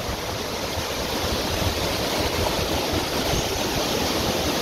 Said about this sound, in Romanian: Uite ce cădere mișto de apă